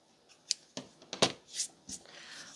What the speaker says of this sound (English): I'll trim it, trim the little edges off.